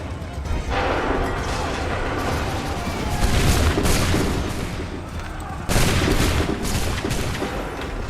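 Massed musket volleys in the video game Assassin's Creed 3, loud roaring bursts of gunfire that swell and crash, with shouted commands layered over them.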